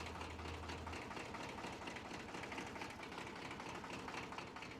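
A tractor engine in Farming Simulator 25 runs in a steady, dense drone with a rattling mechanical texture, continuous and fairly loud, with no talk over it.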